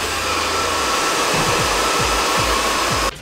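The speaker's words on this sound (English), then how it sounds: "immediately seal it with a blow dryer." A blow dryer roars close and steady while drying stiff teased hair set with hairspray, a loud continuous airy rush that cuts off abruptly at the end, no one talking.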